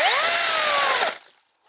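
A Makita 18V battery-powered chainsaw whines loudly and close at a high, steady pitch, then winds down and cuts off after about a second, leaving near silence.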